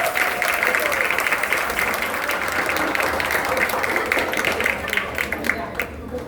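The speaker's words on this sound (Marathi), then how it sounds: "सो प्लीज एकदा जोरदार टाळ्या वाजवा त्यामुळे" Audience at a housing-society Ganesh festival stage performance applauding, a dense, sustained wash of clapping that holds steady throughout and thins slightly toward the end, with voices mixed in.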